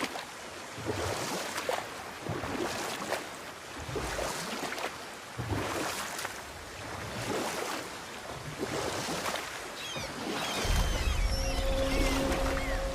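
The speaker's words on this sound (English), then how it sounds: "Keep rowing towards the statues of the oarsmen, then thread past between them." Oars dip rhythmically as a small boat is rowed across open water in the God of War video game, each stroke a soft splash about every second and a half over steady wind and lapping waves, with a low tonal swell near the end.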